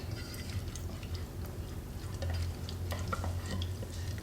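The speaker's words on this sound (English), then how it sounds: "you're just stirring around and letting this cheese melt" Cheese melting in a pot for homemade mac and cheese is stirred steadily, with soft scraping and gentle sizzling that continues throughout.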